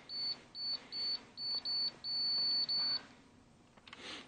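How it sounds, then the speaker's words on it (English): A Pittsburgh Pro digital torque wrench, used on a 3.1l or 3.4l engine head gasket job, gives a run of high electronic beeps that come faster and merge into longer tones, then stop, followed by faint mechanical clicks. "You can tell when you're getting close because of the beeps starting to go beep,"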